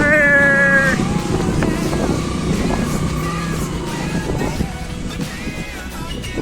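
A motorcycle climbs a steep road through forest, its engine droning under heavy wind buffeting with shifting tonal whines, while people talk faintly over the ride.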